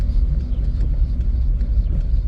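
A rebuilt Polo Vivo drives along in second gear, giving a steady low rumble of engine and road noise heard from inside the car, without talking.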